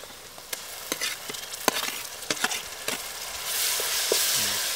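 Ginger and garlic hit hot oil in a pan for an aloo tamatar curry, sputtering in sharp irregular pops that grow into a steadier sizzle, with light stirring and no talk.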